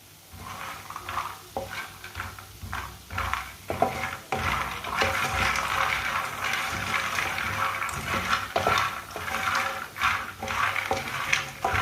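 A spoon stirs fox nuts (makhana) roasting in a pan on the stove, with soft scraping and light clattering over a steady low sizzle, close by and continuous with occasional louder knocks.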